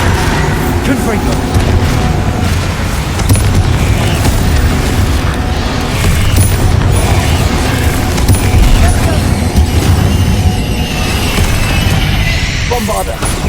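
Bombarda and Confringo explosion spells in the Hogwarts Legacy video game burst over and over amid thick, continuous combat noise, with deep booms rolling under a voice that keeps shouting spell names.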